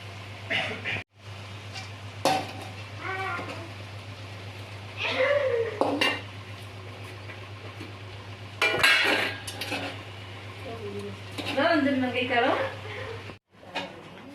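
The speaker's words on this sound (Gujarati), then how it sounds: "બરાબર ભાત નાખી દીધું હવે હલાવી દઈશું" Rice is stirred into pulav with peas, cinnamon and cloves in a metal pot, giving repeated scraping clanks of a spoon against the pot. Voices talk over much of the stirring, with a steady low hum underneath.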